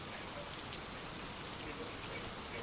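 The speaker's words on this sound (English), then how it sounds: "you guys can listen to rain" Steady rain falls in a dense, even hiss of drops spattering on surfaces, continuous and fairly soft without any pauses or voices.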